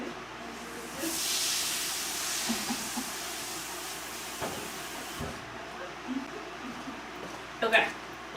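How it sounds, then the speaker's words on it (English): Water runs from a kitchen sink tap to rinse a dish after mixing black bean burger ingredients: a broad, steady hiss for several seconds, then a quieter room tone with a few light clinks near the end. "I'm gonna toss this in the sink. As you know, rinse right away"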